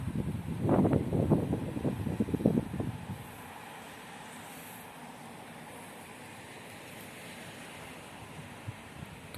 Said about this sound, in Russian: а сейчас просто ветер